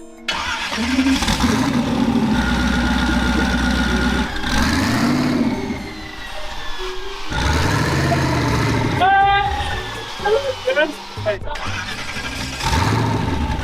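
A car engine fires up and revs repeatedly ahead of a burnout, loud and close with rising and falling surges and brief idle dips, people talking over it throughout.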